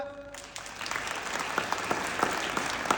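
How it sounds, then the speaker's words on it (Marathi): Children clapping together at a summer camp inauguration ceremony in a school hall, a dense burst of applause that starts after a brief tone and continues steadily, fairly close and lively. "सगळ्यांनी आपल्यासाठी पहिल्यांदा टाळ्या वाजवा बरं"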